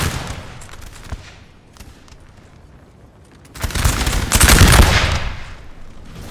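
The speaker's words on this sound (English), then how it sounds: "There you go, Russians firing away." Musket volley fire from Russian line infantry in Napoleon Total War, a crackling ragged fusillade that swells into a loud dense burst of shots, a battlefield din without speech.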